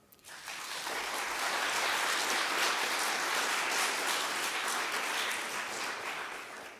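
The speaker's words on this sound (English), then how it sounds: "let's give them another round of applause" A crowd at a Livermore candidates' forum applauds steadily, the clapping swelling quickly and holding at an even, moderate level for several seconds with no voices.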